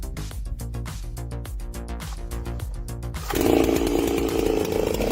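A large Stihl MS 660 chainsaw with a 90 cm bar chugs and revs at idle, then bites into an oak log with a louder, steady, gritty roar.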